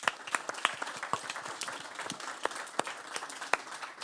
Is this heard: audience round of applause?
yes